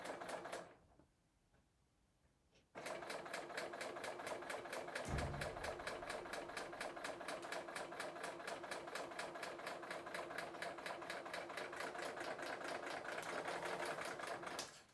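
An August serger sewing machine stitches and trims a fabric seam, running in a steady, fast mechanical rattle after a brief quiet pause, with a short low thump partway through and no talk.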